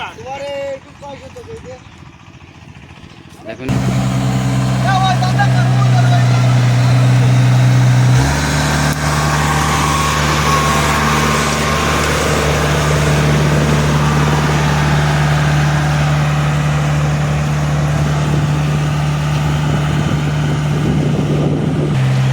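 A combine harvester engine turns over and starts, then settles into a loud, steady, deep rumbling idle close by, with a brief spoken word before it catches.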